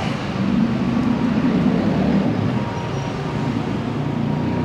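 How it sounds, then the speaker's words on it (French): An elevated metro train in Monterrey rumbles past overhead, a steady loud low roar with broadband noise that holds throughout, no voices over it. "Le métro a passé en l'air là"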